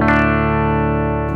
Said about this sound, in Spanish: Debería sonar más limpio y no suena. Tiene una saturación bien fea.